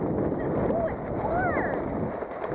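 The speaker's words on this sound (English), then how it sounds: "we got some wind down our backs" Wind rushes past a small sailboat as it catches a breeze from behind, a loud, steady broadband buffeting on the microphone, with faint vocal-like whistling sweeps through the middle.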